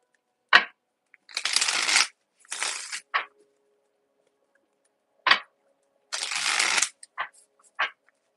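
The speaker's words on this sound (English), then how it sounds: "Let me get a good shuffle real quick." A deck of tarot cards is shuffled in several short riffling bursts, with crisp taps and snaps of the cards between them. The sound is close and clear against near silence.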